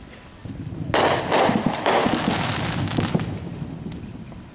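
A rapid burst of crackling firework bangs, heard from a boat at night, erupts after a quiet moment, popping densely for a few seconds before thinning out.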